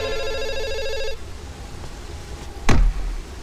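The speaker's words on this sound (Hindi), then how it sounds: "फोन बज रहा है." A telephone rings with a steady electronic tone for about a second, then cuts off, followed by a quiet room and a brief knock.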